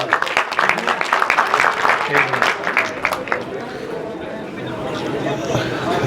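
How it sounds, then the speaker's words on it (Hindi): An audience at a religious night vigil (jagran) claps as guests are honoured, brisk applause for a few seconds that fades into crowd murmur and chatter, with voices talking over it. "एक बार तालियां बजाकर"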